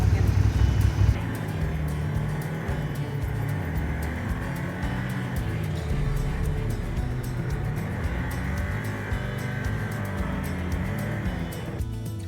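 A car driven in the Southwest near Bryce Canyon, with a steady, loud engine and road rumble from inside the vehicle that runs throughout and drops off at the very end.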